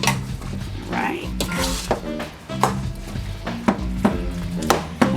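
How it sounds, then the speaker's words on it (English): A utensil chops and scrapes through ground meat for meatloaf in a bowl, giving repeated sharp clinks and knocks in an uneven rhythm at close range. "right now I'm just going to chop it in to break up the meat a little bit."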